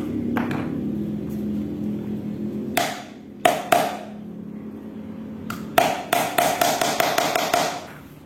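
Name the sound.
small hammer driving nails into a rattan vase base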